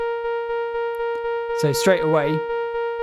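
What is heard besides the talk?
step sequencer playing a rhythm in a modular synth rack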